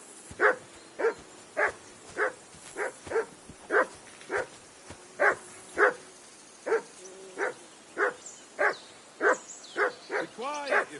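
A dog in the video game Kingdom Come: Deliverance 2 barks repeatedly in a steady rhythm, about a dozen and a half sharp barks close by, some turning to yips and whimpers near the end.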